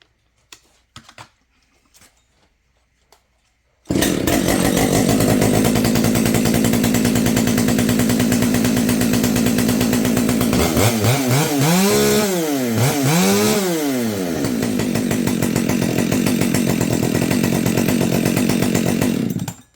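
A Husqvarna 572xp chainsaw with a stripped muffler thread engine catches after a few faint clicks and runs loud and steady, its pitch dipping and surging briefly as the throttle is worked midway through.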